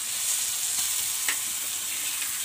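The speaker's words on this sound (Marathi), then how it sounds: "फ्राय होते आहे." Prawns fry in a hot pan, giving a steady, close crackling sizzle with a faint stir or tap near the middle.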